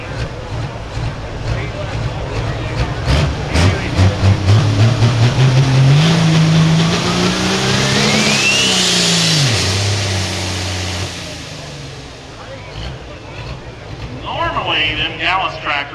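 A Limited Pro Stock pulling tractor engine revs hard and climbs in pitch under heavy strain at a tractor pull in Fisher, Illinois, roaring loudly before dropping off, with talk heard over it.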